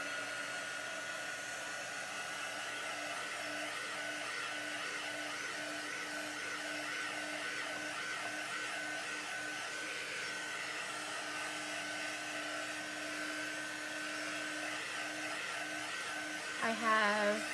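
A hair dryer blows steadily and close on chalk paste spread over a stencil, a continuous whirring drone for the full length, with a brief louder bump near the end.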